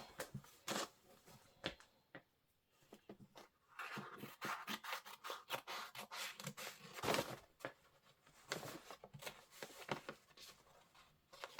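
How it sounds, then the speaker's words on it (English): Scissors snip and rub through embroidery stabilizer, trimming it away from a machine embroidery hoop; irregular close crisp cuts and papery rustles come in bursts with short pauses, no talking. "I'm going to cut my stabilizer away."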